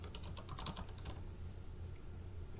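Typing a username and password on a computer keyboard: a quick burst of key clicks at the start, then quieter, faint and close over a steady low hum.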